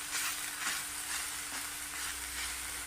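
Fenugreek leaves and chopped onion sautéing in a pan for a methi potato bhaji, a steady broadband sizzle and frying hiss running evenly throughout, close and continuous with no talk.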